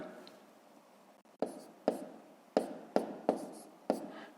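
Pen or chalk writing numbers by hand for column multiplication, a quiet scratch followed by about six distinct taps and strokes in an irregular rhythm, close and clear with no voice over it.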